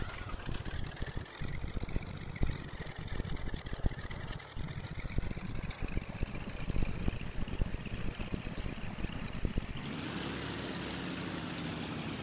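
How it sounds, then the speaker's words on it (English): The right engine of a simulated Cessna 310 being cranked and started: a steady rattling, chugging engine drone with a faint whine that holds for about ten seconds, then shifts to a smoother, even idle. "Crank on engine 2."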